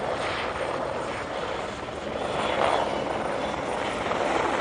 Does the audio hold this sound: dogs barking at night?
no